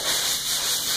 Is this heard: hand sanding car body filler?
yes